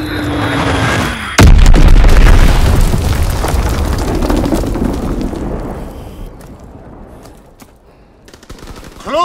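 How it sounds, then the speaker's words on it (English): A bomb explodes in the Call of Duty: WW2 multiplayer war game: a sudden loud, close boom lands after a quiet opening and gives way to a long rumbling decay, with scattered gunfire crackling through the tail. "Enemy bomb incoming. Get to cover."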